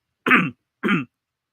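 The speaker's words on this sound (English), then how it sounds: "sorry I keep coughing in you guys' ears" Two separate bursts of throat clearing and coughing from one person, each about a quarter second long, loud and close, with silence between and no talk.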